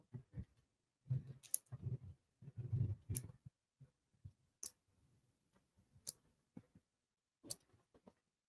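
Scissors snip through quilting fabric in a quiet room, giving sharp isolated clicks and short cutting crunches spaced irregularly several times, with soft rustling between cuts.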